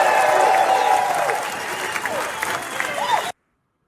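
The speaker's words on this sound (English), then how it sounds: "All right, give yourselves a round of applause." Applause from an audience fills the clip, dense clapping mixed with crowd noise and some cheering voices, cutting off abruptly near the end.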